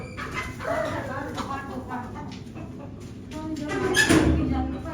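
Chickens clucking around a household yard in rural Punjab, with people talking and calling over them; a dog may bark too, and the birds sound near and fairly loud throughout.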